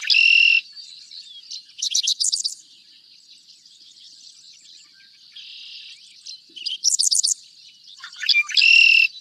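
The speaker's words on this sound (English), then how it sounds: "So this is the song of the red-winged blackbird." A red-winged blackbird sings its conk-la-ree song, two full phrases of buzzy trills with rapid chirping notes, clear and fairly close, while a quieter dickcissel sings faintly in the background.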